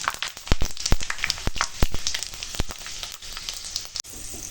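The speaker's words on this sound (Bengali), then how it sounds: "তেল গরম হয়ে গেছে, দিয়ে দেবো ফোড়ন। ফোড়নে দিয়েছি 5 ফোড়ন, শুকনো লঙ্কা, তেজপাতা।" Panch phoron whole spices, dried red chilli and bay leaf spit and crackle in hot oil, a close, busy sizzle with sharp popping bursts scattered throughout and no voices.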